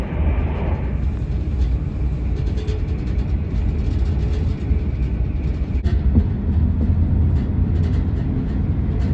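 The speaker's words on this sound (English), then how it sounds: "Here we are at the closest train station to Port Isaac, aka Port Wenn, and it's Bodmin Parkway." A train at Bodmin Parkway railway station in England, a steady loud rumbling roar that holds throughout with some faint clatter, heard close with no clear talking.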